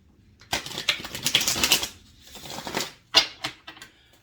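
A deck of tarot cards is shuffled at close range in several quick riffling bursts with short pauses between them, fairly quiet and with no voices.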